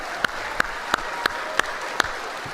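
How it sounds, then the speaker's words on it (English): Audience applause at a chamber of commerce annual show, a steady wash of clapping from a crowd with a few sharper, evenly spaced claps standing out. "Let's give her a big round of applause."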